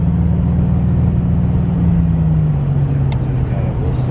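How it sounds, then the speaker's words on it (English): A 1987 Buick Grand National turbo engine pulls hard under acceleration, a loud, steady low drone from inside the car that slowly shifts pitch, with a few faint higher chirps near the end. "hit that turbo kicking"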